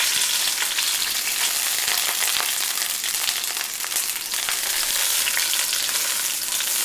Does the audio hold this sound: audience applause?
no